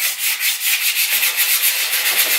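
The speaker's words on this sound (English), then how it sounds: "So I have a piece of 220 sandpaper that I'm just going to use to rub" Piece of 220 grit sandpaper rubbed by hand over wood to smooth away splinters and tear-out, giving a close, loud, rhythmic back-and-forth scratching in quick even strokes, with no talking.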